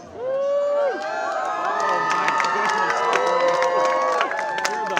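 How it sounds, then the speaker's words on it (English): A crowd of children at the zoo, gathered for a taekwondo demonstration, cheers and shouts loudly and continuously, with high excited voices and whoops layered together and a few scattered claps. "Hey guys, we have the Dragons, so please cheer really loud."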